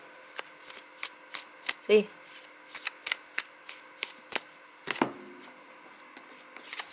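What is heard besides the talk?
tarot cards being shuffled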